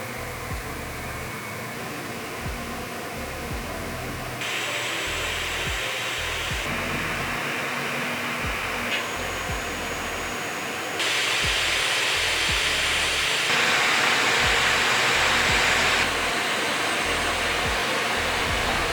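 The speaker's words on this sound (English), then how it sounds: "here's some noise samples compared to some other laptops for reference" Cooling fan of an Asus ROG Flow Z13 tablet laptop, a steady broadband whoosh that steps up and down in loudness across several fan-speed levels, with a faint high whine on some steps; no talking.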